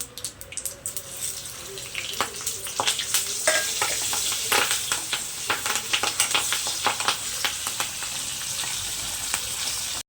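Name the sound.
curry leaves, turmeric, salt, asafoetida sizzling in hot oil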